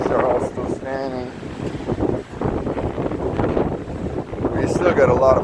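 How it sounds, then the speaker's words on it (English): Strong gusty wind the day after Hurricane Irma in Hudson, Florida, roaring and buffeting the microphone continuously while someone speaks over it. "We still got a lot of wind here"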